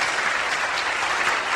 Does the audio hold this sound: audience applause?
yes